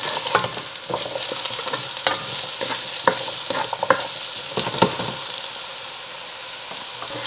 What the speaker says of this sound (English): So just continuously toss your butternut squash until it's lightly browned all over.